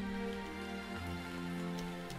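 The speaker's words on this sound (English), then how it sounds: "Raining." Steady rain falls in the farming video game Mountaincore, a continuous soft hiss with occasional drop patters layered over a droning ambient music bed, no talking.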